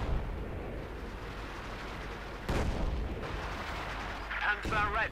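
Soviet fear propaganda artillery barrage in Company of Heroes 2, heard as continuous rumbling battlefield noise with heavy booming impacts. A commentator talks over it throughout.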